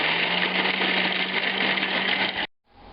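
A food processor whirring steadily as it chops bread with a ground spice mixture for Swedish meatballs, loud and close, then cutting off abruptly near the end.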